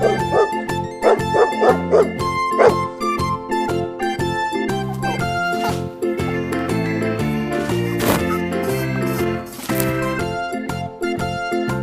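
A dog barks in a children's farm-animal sound lesson, with several sharp barks near the start set against steady music that continues throughout the clip.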